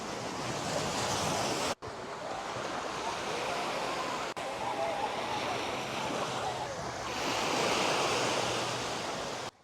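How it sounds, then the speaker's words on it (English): Ocean waves wash continuously onto a Zanzibar beach, a broad steady roar of surf with wind buffeting the microphone and two brief dropouts. "soak in the sound of the waves"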